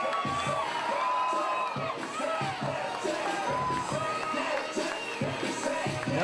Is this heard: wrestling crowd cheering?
yes